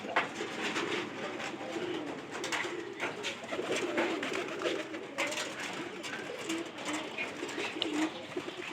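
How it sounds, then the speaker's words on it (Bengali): Pigeons cooing at a loft, a continuous layered murmur of soft, throaty coos from several birds close by, with some wing and shuffling noise. "এই যে এই কবুতর দেখেন"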